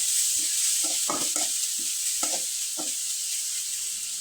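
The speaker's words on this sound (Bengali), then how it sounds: "আবারও খুব ভালোভাবে নেড়েচেড়ে নিতে হবে।" Spiced potato curry with fried cumin powder is stirred in a pan, a spoon scraping in short, uneven strokes over a constant soft sizzle, close by and without talk.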